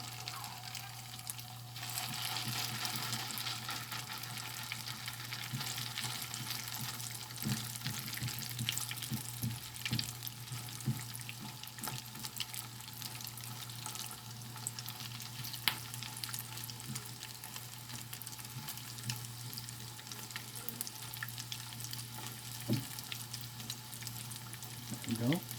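Salmon patties fry in a pan with a steady, close sizzle that runs throughout, broken by a few sharp clicks and scrapes from the utensil, over a low constant hum.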